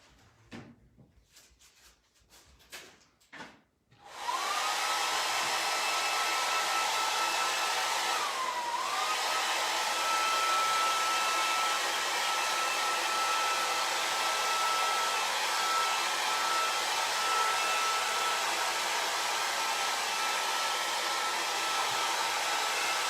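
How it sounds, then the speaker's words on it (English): After a few quiet rustles and clicks, a hair dryer switches on for drying paint and roars steadily, a loud constant airy whoosh with a faint whine that lasts to the end, briefly dipping once when moved. "I think I'm going to turn on the hair dryer."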